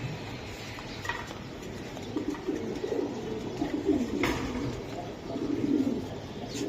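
Giribaz racing pigeons cooing, soft repeated low coos at close range, with faint background noise and some distant voices.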